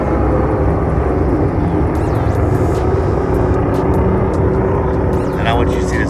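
A desert race truck roars past in a loud, continuous engine drone with a rising and falling whine, heard close against wind rumble, with a voice talking over it.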